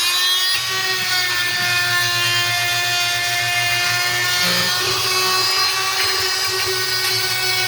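An oscillating multi-tool fitted with a carbide grout blade grinds slate tile grout in a kitchen, a loud, continuous high-pitched buzzing whine held close up with slight shifts in pitch and no speech.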